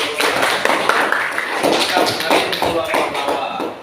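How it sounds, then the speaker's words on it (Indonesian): Students in an Islamic education classroom clap for a correct answer, a ragged burst of close hand claps mixed with shuffling and a voice talking over it. "beri tepuk tangan"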